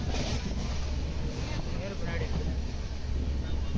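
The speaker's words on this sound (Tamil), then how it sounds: "வண்டி சரியான ஸ்பீடுங்க ட்ரெயினு." A train moves at speed with a steady loud rumble and wind rush, heard continuously from on board on a trip from Tiruchirappalli to Tirupati.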